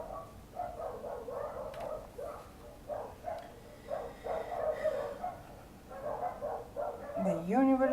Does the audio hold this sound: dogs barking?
yes